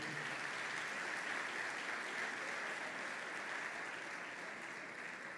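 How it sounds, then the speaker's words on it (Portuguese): A church congregation applauds during a Portuguese-language sermon, a continuous, even wash of clapping from a large room that holds steady throughout without pause. "Pode aplaudir o Senhor."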